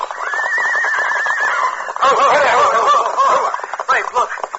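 In a western radio drama a horse whinnies loudly and at length, with a wavering high neigh, then snorts and whinnies again close up. It stands alone, with no talk over it.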